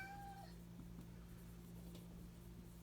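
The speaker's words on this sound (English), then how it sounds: "try to ignore my cat" A pet cat gives a short, rising meow near the start, fairly faint against a steady low hum in a quiet indoor room, then falls silent.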